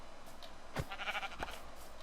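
Two short sheep bleats from the Minecraft video game, spaced under a second apart, sound fairly close against a faint steady background with no talking.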